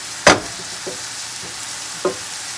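Pork sausage browning in a pot for a one-pot meal, heard as a low steady sizzle broken by a few sharp scrapes and stirs: one loud clack near the start, then two softer knocks, with no talking.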